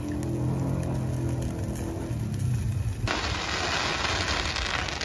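Dense New Year's Eve firecrackers exploding in a rapid, continuous crackle that fills the whole stretch, loud and close, with a deeper rumbling burst underneath early on and a brighter, harsher wash of pops after the midpoint.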